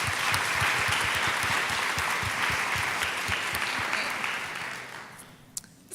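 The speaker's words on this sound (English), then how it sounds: "let's also give a round of applause for those amazing leaders in this community" Audience applause at an event, a dense, steady wash of many hands clapping that fades toward the end.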